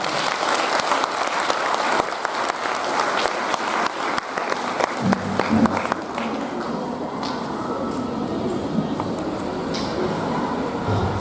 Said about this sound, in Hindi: कृपया सर का स्वागत जोरदार तालियों से करें